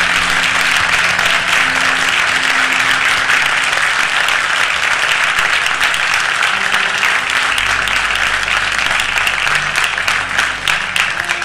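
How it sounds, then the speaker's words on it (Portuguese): A church congregation claps loudly and continuously during a service, a thick wall of hand-clapping with low musical tones from instruments sustained beneath it throughout. "Se a igreja concorda, aplauda fortemente ao Senhor"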